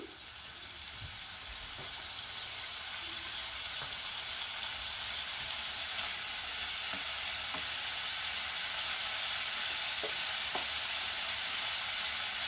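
Noodle soup ingredients with soy sauce fry on a gas flame turned to high heat, a steady quiet sizzle broken by occasional soft clicks of a utensil stirring in the pan.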